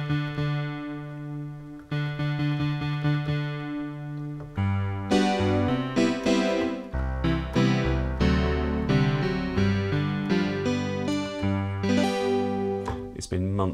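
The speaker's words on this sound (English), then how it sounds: "Let's go into a mod effect and let's add some chorus." Synthesizer played on mini keys through a digital waveform patch with chorus modulation and plate reverb, a sequence of sustained chords and shorter notes with a thick, shimmering tone, loud and continuous with no voices.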